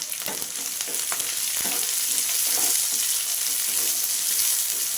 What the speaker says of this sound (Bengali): সবগুলো একসঙ্গে খুব ভালো করে ভেজে নেব